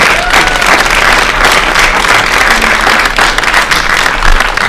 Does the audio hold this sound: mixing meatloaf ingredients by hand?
no